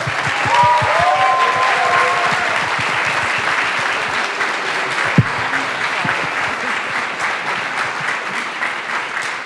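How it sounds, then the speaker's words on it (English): Audience applause at the end of a talk on studio recruiting, loud sustained clapping from a crowd for the full stretch, dense and even with a faint voice or two mixed in. "Can we get a round of applause for Melanie and Carlos?"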